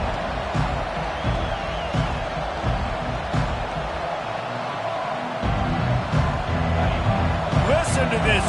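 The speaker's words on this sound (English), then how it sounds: "Listen to this crowd just shaking the girders of this place, trying to help their defense." A large stadium crowd at a Clemson at Auburn college football game roars continuously in a dense, loud wash of cheering, with a commentator talking over it.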